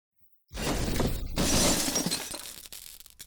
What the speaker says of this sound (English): Now I need a crashing sound, and that very first one I auditioned sounded pretty dang good.